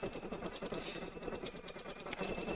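Brother PR1X embroidery machine stitching raw-edge appliqué onto a jacket, a dense, continuous mechanical chatter of rapid needle strikes with a faint steady whine, close and even throughout.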